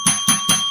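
A bell rings three times in quick, even succession, each strike bright and sustained with a ringing tail, loud and close with no talk over it, marking the close of a show.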